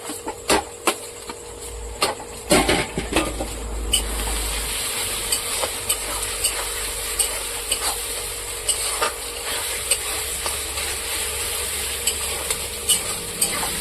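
Meat fries in a pan over a gas flame at medium to high heat, a steady close sizzle broken by the scrape and clink of a utensil stirring, busiest in the first few seconds, with no talking.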